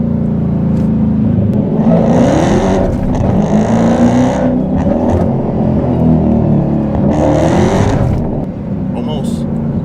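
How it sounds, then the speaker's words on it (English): A widebody Dodge Challenger Hellcat Redeye roars as its tires spin on purpose to warm them, a loud continuous engine rumble with surging revs, heard from inside the car with someone talking over it. "Let me actually try to warm the tires by spinning them on purpose."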